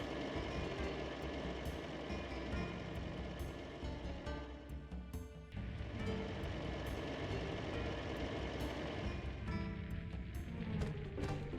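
A tram ride in the video game Dark Cloud, heard as a continuous rumbling, rattling rail-vehicle drone with some clanking, steady and fairly loud, with no talking.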